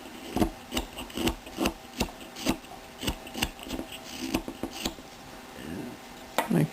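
Hand trimming of a carved wooden donkey head into an oval shape, a string of short scraping and rasping strokes in a steady rhythm, close and fairly quiet, with no talking.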